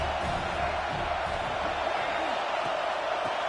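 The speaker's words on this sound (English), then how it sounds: "This crowd trying to make life miserable for this offense." A college football video game stadium crowd roars as a dense, steady wash of noise, with a commentator's voice over it.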